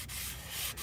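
A sanding block rubs back and forth over an overhead-cam engine cylinder head during a valve job cleanup, a steady close-up abrasive scrape filling the short stretch with no talk.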